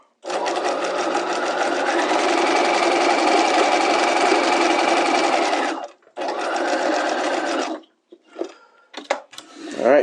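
A sewing machine runs a row of gathering stitches in a fabric seam, buzzing steadily and close for about six seconds. After a short pause it runs again for another two seconds, then stops, leaving faint handling clicks.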